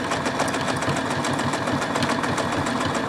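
A sewing machine stitches a seam on a beginner's beach tote bag, running in a steady, continuous rapid chatter close by with no pauses throughout.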